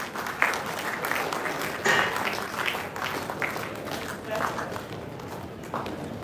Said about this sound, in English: let's give a big round of applause to the winner